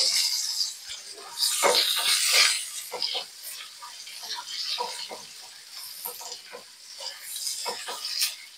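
Ginger sautés in a pan, a crisp, bright sizzle with repeated stirring scrapes that swell and fade in uneven bursts.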